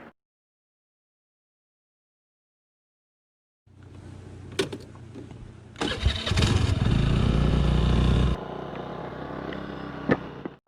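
A Honda Activa 5G scooter starts after several seconds of silence, then idles and revs with a steady mid-pitched engine hum that swells louder for a couple of seconds before settling back down.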